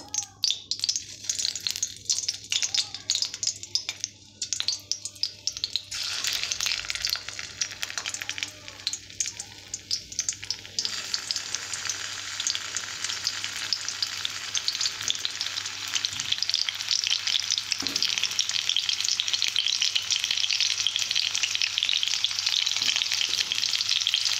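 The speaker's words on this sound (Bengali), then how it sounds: "ভালো করে তেল গরম করে নিয়েছি। এরপর আমি এক এক করে আমি ছেড়ে দেবো।" Stuffed pointed gourd fries in hot oil, a steady crackling sizzle that grows brighter and denser after the pieces go in, with occasional stirring and handling noises, close by and fairly quiet.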